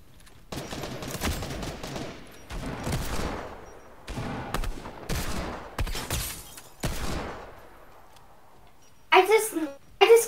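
Rapid bursts of gunfire in a Fortnite match crack out in clustered volleys over several seconds, with players talking over the shooting and a louder burst near the end.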